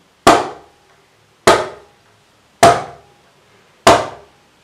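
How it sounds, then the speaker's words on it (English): Four separate mridangam Dhi strokes, each played with four fingers on the black surface of the right side. The sharp, loud slaps come at an even pace and decay quickly, with no talk. "Dhi is with four fingers on the right side. Within the black surface you have to play, and that is Dhi."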